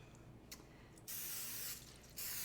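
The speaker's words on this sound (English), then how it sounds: "And then we will spray these lovely little pans." Cooking spray hisses onto small baking pans for a Halloween monster cake, two sustained bursts, the second brief, with a few faint clicks before them.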